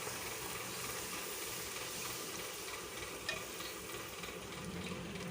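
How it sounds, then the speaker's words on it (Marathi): Puris fry in hot oil in a home kitchen, a steady dense sizzle and crackle continuing close and alone from start to finish. "इकडे आता मी पुऱ्या बनवून घेतो आहे."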